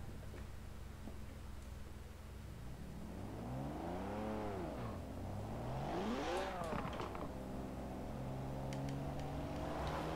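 A rear-wheel-drive car in Forza Horizon 4 pulls away slowly through its low gears, with rising and falling engine revs swelling and easing several times, then settling into a steady hum at moderate loudness.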